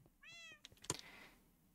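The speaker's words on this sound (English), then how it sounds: "Also, cat." A cat in the video game Minecraft (All The Mods 7 modpack) gives one clear, fairly quiet meow, followed by a few soft clicks and a brief thump.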